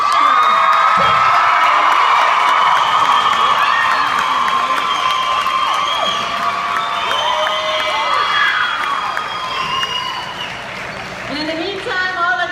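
A school crowd at Mayfield High School cheers for a teacher, loud sustained applause mixed with shouts, whoops and children's screams that carry on throughout with no pause.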